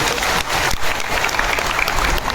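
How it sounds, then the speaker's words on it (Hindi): Loud, dense applause from a crowd at an outdoor Adivasi rights day gathering in Talasari fills the whole stretch, a steady roar of many hands with no break. "जोरदार ताली बजाओ"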